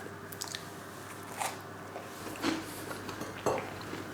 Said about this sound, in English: You got a nice crunch when you bite into it, and it's soft and lovely inside